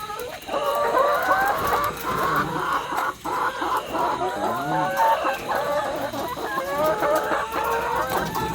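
Hens on a small backyard poultry farm clucking and cackling continuously, several birds close by in overlapping rhythmic calls, fairly loud with no voices.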